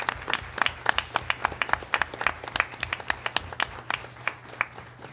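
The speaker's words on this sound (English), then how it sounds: "Let's give our Cabell County Fair participants another big round of applause." A modest group at a school board meeting claps for county fair participants: distinct, fairly sparse individual claps in an uneven rhythm, close and clear with no talk.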